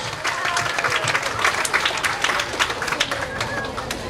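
An audience at a civic ceremony in Zacatecoluca, El Salvador, applauds an honored official, with sharp, dense clapping and distinct individual claps rising and falling across several seconds.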